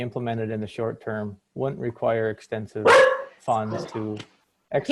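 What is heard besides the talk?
dog barking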